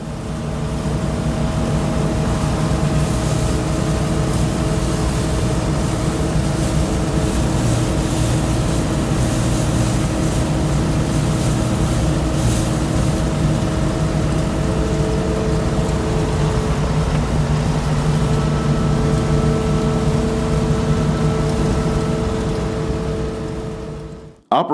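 A John Deere 4420 combine harvests wheat in a field, its engine and threshing machinery droning in a steady, loud, unbroken roar with no talk, then cutting off abruptly at the end.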